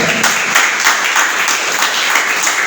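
A church congregation applauding steadily and loudly, dense continuous clapping with no gaps, filling the whole stretch.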